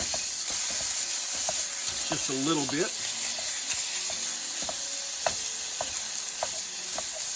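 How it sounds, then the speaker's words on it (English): Ground beef sizzles and crackles steadily in a hot pan, with a brief spoken remark over the frying. "let's listen to it sizzle"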